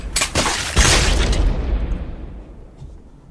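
A loud explosion in the video game Happy Wheels bursts out sharply, then a broad rumbling roar slowly fades away with no talk over it.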